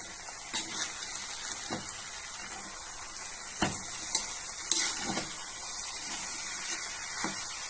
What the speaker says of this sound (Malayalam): ഇനി നമ്മൾ നന്നായിട്ടൊന്ന് ഇളക്കണം.